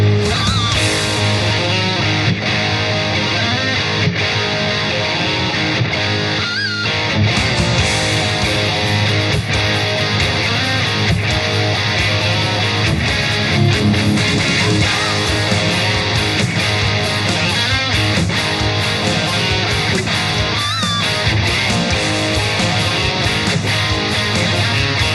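Main intro riff on electric guitar, a loud, dense, driving rhythm part played continuously with a full band-like wash and steady pulse throughout.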